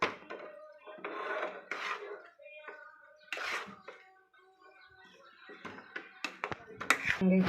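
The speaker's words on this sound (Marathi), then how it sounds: "आता त्याला ना हलवून घ्यायचं व्यवस्थित।" Upit (upma) is stirred in a pan with a utensil, making intermittent wooden scrapes and knocks against the pan under a person talking.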